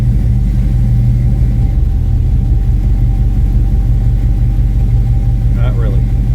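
A Chevy C10 truck's engine idles in gear, slightly high before tuning, giving a loud, steady low rumble throughout, with brief voices over it near the end.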